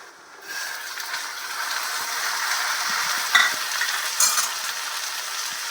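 Onions and garlic frying in a pan for a ridge gourd dish as chopped tomatoes go in, giving a steady close sizzle with a couple of soft stirring clinks partway through.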